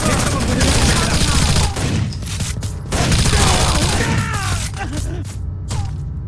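Rapid bursts of gunfire from the video game Rainbow Six Vegas 2, set in a train station, crackle loud and dense almost throughout, with brief lulls between volleys and voices talking over the shooting.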